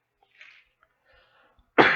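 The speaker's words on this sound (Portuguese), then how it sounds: "quando você tosse, tem que explicar a causa, não? Eu engasguei" A single sharp cough from a person choking bursts out abruptly at the end after near silence with faint breathy rustles.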